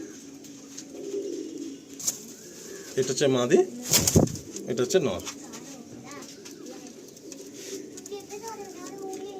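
Abluk pigeons cooing inside a loft at Ichchapur, soft repeated coos and a few wing sounds mixed under someone talking nearby, with a louder burst in the middle.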